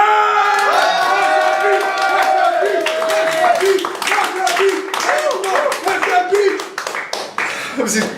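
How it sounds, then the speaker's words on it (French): An audience claps along, a dense spread of hand claps under cheers and excited voices, loud and close, with a musical tone sounding near the start. "On l'applaudit."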